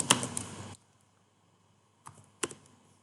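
Someone types on a computer keyboard in quick clicking bursts, with a dense flurry at the start, a silent pause, then a few sharp keystrokes, close and clear in a quiet room.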